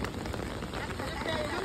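Steady rain falls outdoors during Diwali, pattering on surfaces as a dense, close hiss of drops; a voice is faintly present beneath it.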